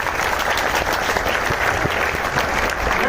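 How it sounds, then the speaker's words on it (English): An audience at a conclave claps steadily, a dense sustained wash of applause from many hands, loud and continuous throughout. "give him a big round of applause for that"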